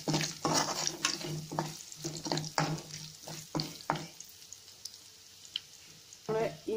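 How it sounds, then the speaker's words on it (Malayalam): Garlic frying in oil left over from frying chicken, sizzling softly in the pan with repeated close stirring scrapes and taps of a spatula, quiet overall and with no voices. "ചിക്കൻ വറുത്ത എണ്ണയിലേക്ക് നമുക്ക് വെളുത്തുള്ളി ഇട്ട് കൊടുത്തു"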